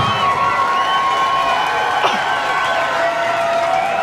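An audience at the Raslavický pedál cycling event cheers and applauds continuously, a loud, dense wash of clapping mixed with shouts and children's voices.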